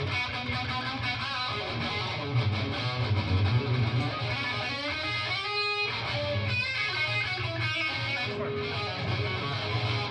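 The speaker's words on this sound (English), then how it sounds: "That crunchy, percussive, like really in-your-face attack guitar tone" Distorted electric guitar rings out with a crunchy, percussive, in-your-face attack, sustained chords and sharp picked notes played alone at a guitar show.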